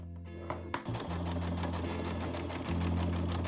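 A sewing machine stitches fabric for a small tote bag, its fast needle chatter running continuously and close by after a short pause at the start.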